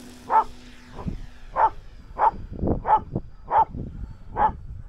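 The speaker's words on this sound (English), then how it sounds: "He scares everybody to death with that loud bark." A dog barks loudly and repeatedly, seven or so sharp woofs at an irregular pace, close by with no talking.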